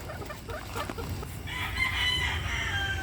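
A young rooster (stag) crows in the second half, a loud drawn-out call over steady low farmyard noise, preceded by scattered clucks and rustling.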